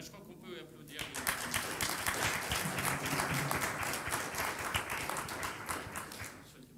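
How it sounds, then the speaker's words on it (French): Council members applauding during a municipal council meeting in a hall, a moderate group clapping steadily for several seconds, with voices heard briefly at the start. "je crois qu'on peut applaudir"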